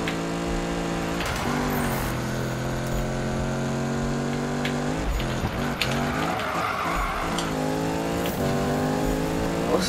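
Ford Mustang GT in the Need for Speed 2015 racing game, its engine revving hard through repeated gear shifts with rising pitch, plus a burst of tire squeal, loud and continuous.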